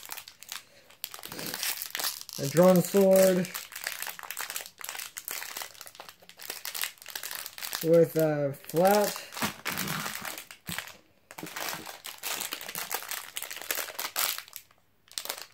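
Paper packing from a fake BeySuper X Beyblade toy set crinkles in two loud bursts during an unboxing, with a person talking quietly in between.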